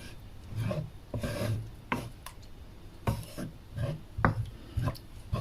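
Spoon stirring and scraping through a shrimp cream sauce in a pot, repeated rasping strokes in an uneven rhythm, close and fairly quiet with no talk.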